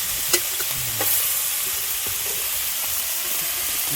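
Greens stems sizzle and hiss in a hot pan as they are stir-fried, with a few sharp scrapes and clicks of a spatula over a steady frying noise.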